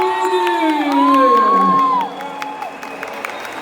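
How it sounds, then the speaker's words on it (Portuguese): An audience at an Anime Geek 2019 stage event cheers with loud, sustained whoops and shouts. The noise then thins into a quieter patter of clapping and scattered calls. "mais aplausos para o Carlos"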